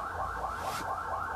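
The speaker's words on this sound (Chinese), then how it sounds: "外边这个一直有警笛声" An alarm-like siren wails outside at night near a highway service area, its pitch rising and falling in a steady cycle, moderately loud and unbroken.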